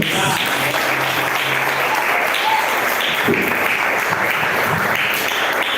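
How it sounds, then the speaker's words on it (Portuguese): A church congregation breaks into steady, sustained applause, giving thanks in worship. The clapping is dense and even throughout, filling the space at a constant level with a faint voice briefly underneath. "vamos receber a palmas agradecendo ao Senhor"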